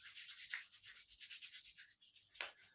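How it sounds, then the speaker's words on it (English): Dry palms rubbing briskly together during a qigong warm-up, a steady close swishing friction that runs without pause for nearly three seconds, with two slightly stronger strokes along the way. "And then rub the hands together, dry rub the hands."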